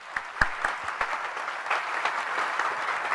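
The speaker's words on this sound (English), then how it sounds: "Let us give him a round of applause." Scattered applause from a graduation ceremony audience in a hall honouring a law graduate, a few sharp near claps over a steady patter, moderately loud and continuous.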